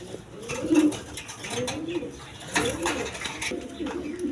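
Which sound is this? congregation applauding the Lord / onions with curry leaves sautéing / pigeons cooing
pigeons cooing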